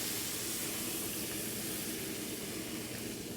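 Milk poured into a hot pan of country sausage gravy gives a steady, loud hiss and sizzle that runs unbroken throughout, with no voices.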